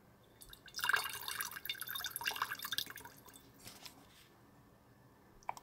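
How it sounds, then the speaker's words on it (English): Water splashes and drips while an airbrush paint cup is rinsed out, a soft close trickle of a few seconds that fades, ending with a small clink. "I'm going to clean the cup out here, rinse it out, and make a new color."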